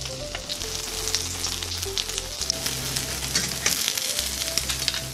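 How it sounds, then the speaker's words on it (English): Syrniki, cottage cheese pancakes, fry in a pan with a steady, close crackling sizzle that continues throughout alongside a low hum, with no speech. "And now let them fry until they're golden brown on one side."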